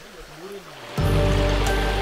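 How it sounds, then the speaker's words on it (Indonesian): Stream water from Danau Kaco lake and a river running through Sumatran forest in Jambi; after a quiet opening with a brief whistling tone, a loud close rush of flowing water sets in and continues. "Ini aliran air dari Danau Kaco dan juga dari sungai."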